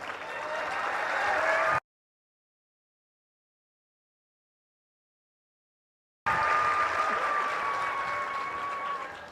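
An audience claps at a religious gathering, with dense sustained applause heard close on both sides of an abrupt silent gap in the recording, the clapping fading slightly toward the end.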